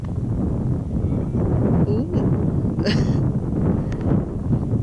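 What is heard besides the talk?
wind noise on microphone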